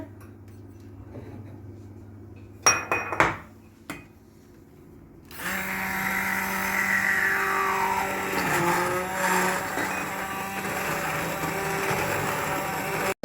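Electric mixer whipping cream for a chocolate cream cake: a few sharp knocks, then a steady, loud motor whine that holds for several seconds, shifting pitch slightly as the beaters work.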